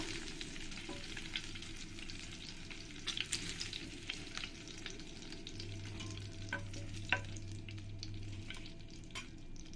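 Cubed potatoes frying in hot oil after paneer, a steady soft sizzle with faint stirring clicks throughout, fairly quiet and continuous with no talk.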